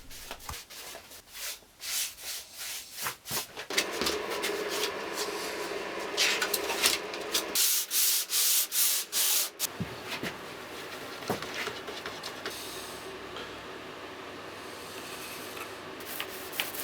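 Repeated rhythmic rasping strokes of sandpaper rubbing across a primed wood panel, with short pauses between bursts of scraping.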